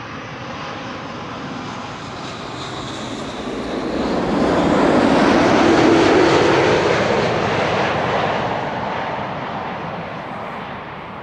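Airbus A330neo airliner landing at Amsterdam Schiphol on a flight from Minneapolis, engine roar building to a loud peak around the middle with thrust reversers engaged, then fading, with no voices.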